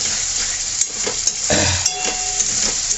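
Mutton kosha stir-fries in a pan with chopped tomatoes, a steady loud sizzle with scraping stirs and occasional clinks of a spoon against the pan, no voices.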